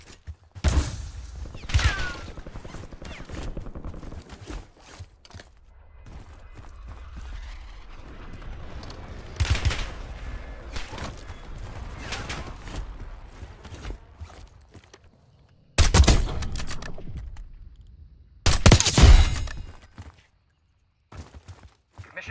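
Gunfire from Black Ops 6 rattles in sporadic volleys among footsteps and mechanical clatter, with two loud, sharp bursts near the end and quieter gaps between.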